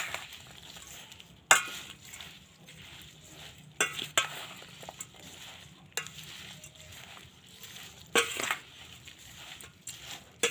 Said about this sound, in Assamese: এতিয়া এইখিনি ভালদৰে লৰাই দিম